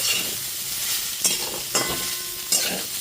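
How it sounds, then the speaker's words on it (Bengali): Soybean chunks fry in a pan over a low-to-medium gas flame with a constant crackling sizzle, broken by a few sharp scraping stirs of the spoon at irregular intervals. "গ্যাসের ফ্লেমটা লো টু মিডিয়ামে করে সয়াবিনগুলোকে নাড়াচাড়া করে ভেজে নিচ্ছি"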